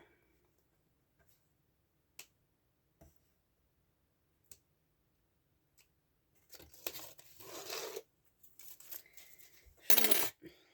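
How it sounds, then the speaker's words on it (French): Strips of double-sided tape are peeled off a handmade album cover: scattered small ticks and clicks in quiet, then a couple of louder ripping, tearing bursts near the end, close by and with no talk. "J'enlève tous les doubles faces."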